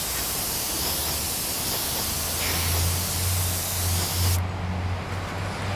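Steady hissing spray from a paint gun coating a cracked, stone-chipped Bimota motorcycle fairing during a repair refinish, loud and continuous with a low hum beneath, cutting off sharply near the end.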